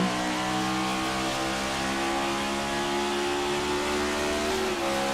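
A race car engine heard from onboard the No. 64 car during a St. Louis series race: a loud, steady, high-revving tone that holds throughout with a slight pitch climb near the end, with no talking.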